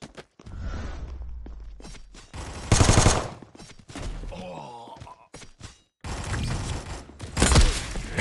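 Gunfire in the mobile shooter Guns of Boom: several loud bursts of automatic fire and single heavy shots alternate with quieter gaps, while game announcer voice lines and effects come through between the volleys.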